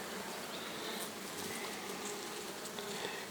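Honey bee colonies at an apiary, ready for the acacia bloom, give off a dense, continuous buzzing hum that fills the air evenly at low volume, with a few individual bees passing closer.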